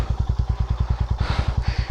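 A Yezdi adventure motorcycle on a ride, its engine thumping in a steady, fast, even beat close by, with a brief rise in rushing hiss partway through.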